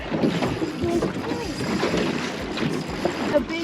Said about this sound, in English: Remember to go easy on the throttle, Beck, so I don't fall off if I'm...